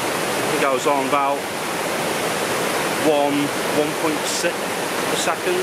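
Fast-flowing water at Lumb Hole Falls gives a constant, close roar, while someone talks intermittently over it.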